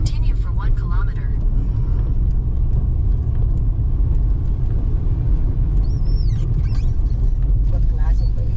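A car's engine strains as it climbs a steep uphill road in first gear on a drive toward Didipio Mine in Nueva Vizcaya, a loud steady low rumble throughout, with people talking over it.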